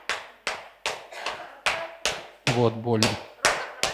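Open-handed slaps landing on a person's back, about nine sharp smacks in a steady rhythm, close and loud, with a short spoken exclamation and a groan partway through.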